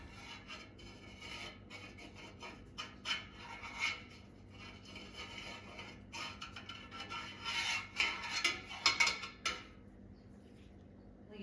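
A knife made from a metal skewer drawn through curdled milk for brynza cheese, soft scraping and rubbing strokes that come close and irregular, growing busier toward the end, no talk.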